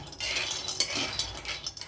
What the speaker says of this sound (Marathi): एकदा कढई साधारण तापल्यावर अतिशय मंद गॅसवर आपल्याला बेदाणे सोडून बाकीचे ड्रायफ्रुट्स भाजून घेऊया